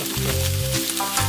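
Tofu champuru stir-frying in a pan makes a short burst of close sizzling over a tonal musical background, with no voices.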